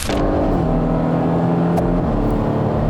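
A Porsche Cayman GTS engine in sport mode drones loudly and steadily while accelerating, with a rich, rumbling tone holding close throughout, no voices.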